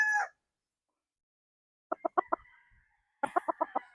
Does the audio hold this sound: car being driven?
no